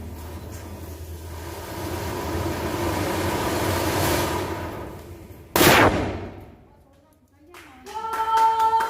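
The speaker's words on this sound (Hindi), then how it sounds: "एक पटाखा, एक बॉम्ब फोड़ा जाता है" A single sharp, loud firecracker bomb bang bursts out midway through a dull background murmur at a Govardhan Puja celebration, followed by quieter sharp pops and rings near the end.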